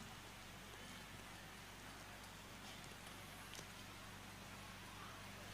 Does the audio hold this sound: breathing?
no